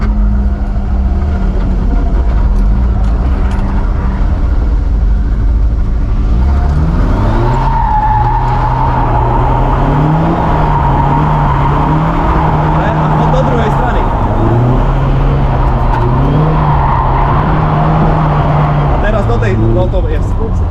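A car drifts in figure eights around cones, its engine revving and wavering in steady cycles under continuous tire and road noise, with people talking throughout.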